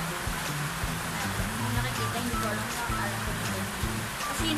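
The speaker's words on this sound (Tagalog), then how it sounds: "Lumakas na yung ulan" Heavy rain pours steadily on a surface, a dense continuous hiss with a low rumble beneath, unbroken throughout and fairly loud.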